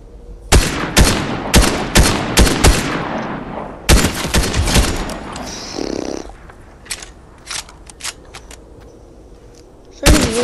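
Loud Fortnite gunfire opens with a quick volley of sharp shots. It then thins to scattered quieter pops before one more close blast at the end.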